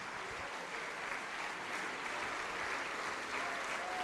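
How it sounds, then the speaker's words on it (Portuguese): A church congregation applauds during a sermon, producing a continuous, even wash of many hands clapping, heard at a moderate, somewhat distant level without pauses. "Vem, vamos aplaudir mais."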